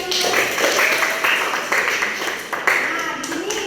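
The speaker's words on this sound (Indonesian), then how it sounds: "Oke, baik, tepuk tangan untuk Etus." A group claps in a burst of scattered applause for a student, close and lively, with voices mixed in.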